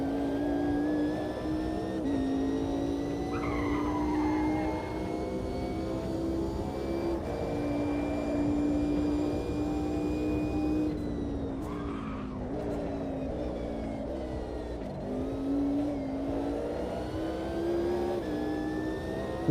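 Race car engine in Automobilista 2 on a misty morning, droning steadily near and loud while the driver warms the tyres, with rising and falling revs and brief tyre scrubbing midway.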